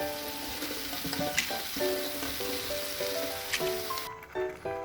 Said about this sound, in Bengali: সব শেষে আমি এর মধ্যে পেঁয়াজ কলিটা দিয়ে দিচ্ছি